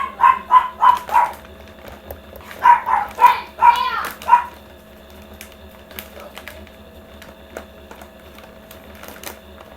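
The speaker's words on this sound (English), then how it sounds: "I'm getting irritated from dogs barking every morning" Several dogs bark in two bursts of repeated, fairly loud woofs over a steady low hum, with a quieter stretch afterward holding only faint clicks.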